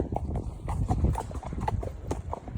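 Hooves of a ridden horse out on a hack clop along a path in a steady, close rhythmic beat of dull thuds, with no talking.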